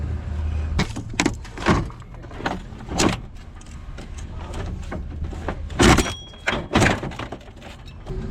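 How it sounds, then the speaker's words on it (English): A car alternator is tossed into a car trunk at a junkyard, landing with heavy thuds and clunks, several impacts scattered across the clip, close and loud, with no talking. "I'm gonna go ahead and toss his alternator in the trunk"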